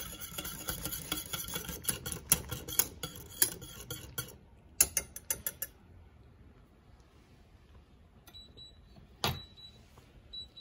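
A spoon scrapes and clinks against a pot of semolina porridge in quick, uneven strokes, then pauses, with a few more scrapes and one sharp clink later; close and fairly quiet.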